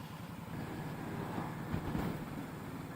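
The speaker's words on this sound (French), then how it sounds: "Ah d'accord, il y a le bus." A bus rumbles past on the road, a low, continuous engine and road roar that swells slightly midway, moderately near and steady, with no voices over it.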